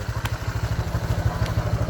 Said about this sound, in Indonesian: Coba kita naik motor dulu ke sana